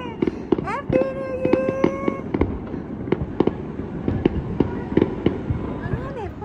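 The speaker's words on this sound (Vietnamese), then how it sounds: "Kìa đó, pháo hoa đẹp ra chưa kìa." New Year fireworks burst repeatedly, sharp pops and crackles scattered at an irregular rhythm over several seconds, with whistling rises between them and people talking excitedly nearby.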